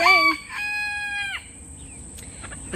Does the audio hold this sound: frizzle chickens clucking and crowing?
yes